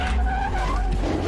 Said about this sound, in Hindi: गाड़ी स्टार्ट हो गई और इसने गाड़ी का शीशा फोड़ दिया